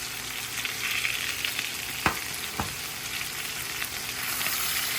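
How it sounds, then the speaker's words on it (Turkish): Pepper paste and lamb sauté on a hot griddle stone outdoors in a garden, a steady close sizzle with a couple of sharp scraping stirs partway through. "Bunu üstü altını kavuracağım."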